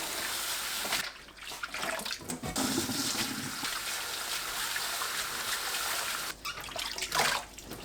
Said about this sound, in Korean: 물에 2번 헹굽니다.